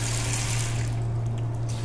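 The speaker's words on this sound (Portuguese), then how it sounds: "Já está aberta a torneira." Water running steadily from a newly installed Pingoo gourmet kitchen faucet into a sink, a close continuous rushing stream with a faint low hum underneath and no talking.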